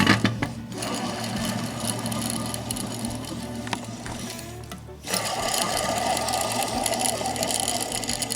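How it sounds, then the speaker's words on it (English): Worn bearings in a removed alternator from a first-generation Nissan Xterra 3.3L, spinning with a fast, rattly mechanical whir and grinding chatter that stays close and steady, briefly dipping midway before resuming. "Bearings don't sound the best anymore"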